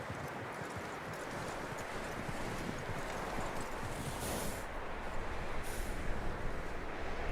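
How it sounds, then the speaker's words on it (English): A horse moves in Red Dead Redemption 2, its hooves clip-clopping in a dense, continuous rhythm under a rumbling, noisy in-game background that builds slightly toward the end. "That looks like a decent horse."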